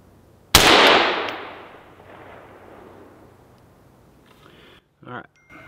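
A single loud rifle shot fired at a zeroing target, a sharp crack followed by a long decaying boom rolling across the range, then brief faint rustling and handling noises.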